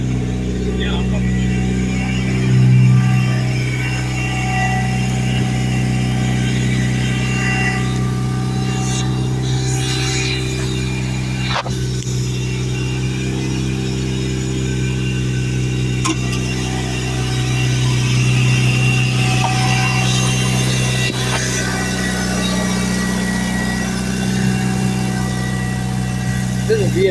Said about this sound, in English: I never thought I would see a Evo.